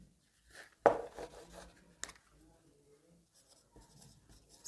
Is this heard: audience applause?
no